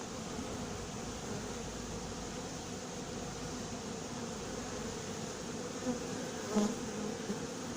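Honey bees hum around a Warré hive in a continuous soft, steady buzz, with a few individual bees flying close by for brief louder passes.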